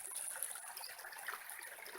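A creek crossing under a hydro line in the woods flows with a steady, soft trickling wash, close by and alone.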